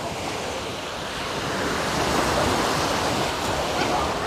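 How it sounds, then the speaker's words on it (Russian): Steady wash of warm sea surf rolling onto a beach in Belek, Turkey, with broadband hiss and some wind rumble, building slightly louder toward the end. "Сейчас мы с вами спустимся к морю, хотим показать вам пляж"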